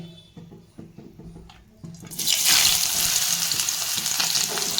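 Bitter gourd for shukto drops into hot oil partway through, and quiet kitchen clatter gives way to a sudden loud, sustained frying sizzle.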